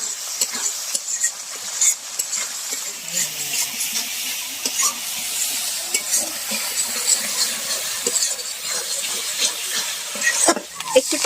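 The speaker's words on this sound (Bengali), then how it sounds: "মাছ ভাজার যে তেলটা ছিল এবার সেটা দিয়ে দিল।" Leftover oil from frying fish is poured into a raw mango curry made with native magur catfish and green chilies. It sets off a continuous hissing sizzle with stirring scrapes and small clinks, fairly loud and without speech.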